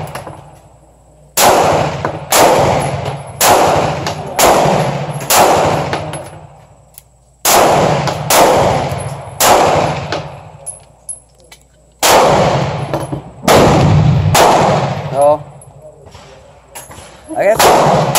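Gunfire at an outdoor shooting range using Midwest ammunition: loud, sharp shots in quick irregular clusters, each ringing out with a long echoing tail, separated by short quiet gaps.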